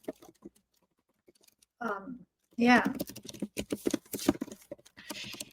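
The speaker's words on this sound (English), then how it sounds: "While James is typing that up" Someone types on a computer keyboard in rapid, irregular clicks near the microphone, while people talk briefly.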